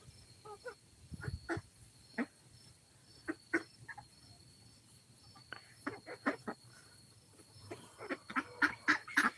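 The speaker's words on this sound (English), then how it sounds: "And these are Icona ducks." Ancona ducks give scattered nasal quacks and honks at close range. The calls come singly at first and grow into a quicker run of calls toward the end, over a faint steady background hum.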